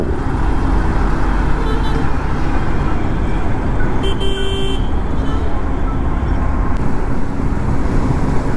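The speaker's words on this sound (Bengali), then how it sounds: "সকাল সকাল গাড়ির একটু চাপ তো আছেই।" Morning road traffic is heard from a Hero Xtream 160R motorcycle riding in rain: a constant loud roar of engines and road noise, with a brief horn-like tone midway.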